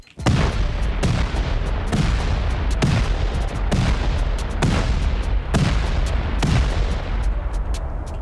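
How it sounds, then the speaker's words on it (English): Rapid string of heavy explosions from C4 charges blowing through the metal floors of a player-built bunker set into a rock in a survival video game, loud booming blasts roughly once a second, continuous and close. "I think if we toss 8 C4 here, the 4 C4 should drop down and damage the next floor after this gets destroyed"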